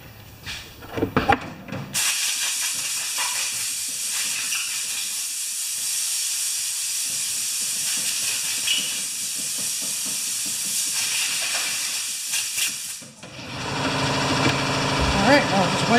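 Compressed air blows off a rinsed part from a Honda mower with a broken rope spring, a loud continuous hiss running for about eleven seconds between short bursts of handling noise at the start and a brief pause before another blast near the end.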